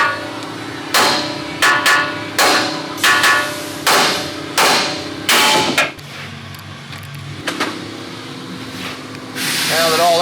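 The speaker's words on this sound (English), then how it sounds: "use a hammer to dislodge the tie rod" A hammer strikes metal around seven times in a steady rhythm, knocking loose a tie rod on a Ford F150 during a strut and shock install. The ringing blows are close and sharp, and a quieter stretch follows.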